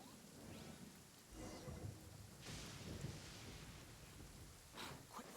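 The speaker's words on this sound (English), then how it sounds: "Uh-oh! Lightning storm! Just our luck." A thunderstorm in the game Genshin Impact brings steady rain and rolling thunder, with a few loud cracks of lightning over continuous rainfall.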